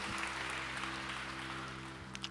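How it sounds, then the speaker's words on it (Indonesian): A church congregation applauds, a soft, diffuse wash of many hands clapping under a steady hum of background music, heard faintly from some distance for a couple of seconds. "Sekali lagi beri tepuk tangan yang meriah buat Tuhan."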